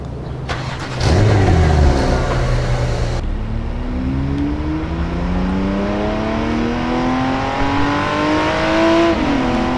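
A Porsche engine starts with a loud burst and then revs and accelerates through rising, falling gear sweeps in the video game The Matrix Awakens, sounding steady and close with no talk over it.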